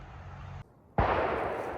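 A single sharp gunshot from a nearby firing range cracks out after a brief silence, its loud report rolling on through wooded country beside a stone ruin along the Appalachian Trail.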